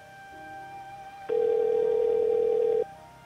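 A single steady telephone ringback tone sounds while a call is being placed. It is a plain, clear, sustained beep lasting about a second and a half, with a faint background hum and no talking.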